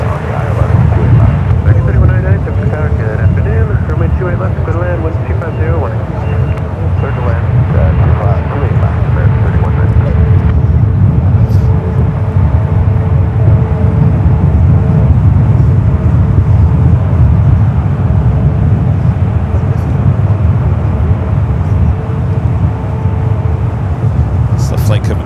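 A Boeing 787-9 Dreamliner airliner on a flight up from Newark at San Francisco airport, a loud steady jet roar holding throughout with a slight shift in tone midway, while people talk over it.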